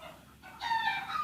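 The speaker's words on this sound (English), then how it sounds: "Chickens go crazy." Chickens squawk and cluck agitatedly, a short rising burst of excited calls close by after a brief quieter moment, with no talking over it.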